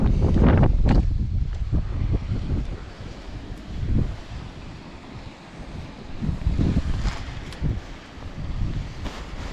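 Strong gusts of wind buffet the microphone in rumbling waves while perch fishing, rising and falling throughout with no voices.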